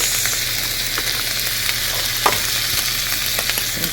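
Sticky rice, salmon and carrots fry in a pan with a steady, close sizzle and occasional stirring scrapes, no voices.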